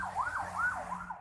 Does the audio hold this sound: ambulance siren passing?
yes